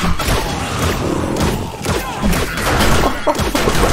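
Dart traps fire at zombies in the 7 Days to Die video game (Alpha 18), a dense, continuous barrage of rapid impacts and mechanical thuds with no pause over several seconds.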